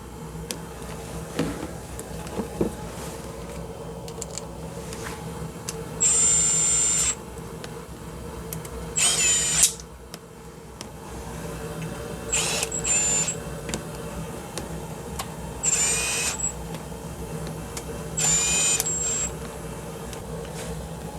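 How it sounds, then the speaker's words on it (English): Screw gun running down bolts on a Volvo oil separator in a crisscross pattern: about five short whirring bursts, each a second or so long, separated by quiet pauses, close and moderately loud, no talking. "I'm just going to use the screw gun just to run these down"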